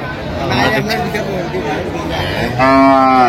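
A Sahiwal cow with her calf moos at a busy cattle market, a long loud harmonic bellow rising near the end over steady crowd chatter and earlier fainter lowing.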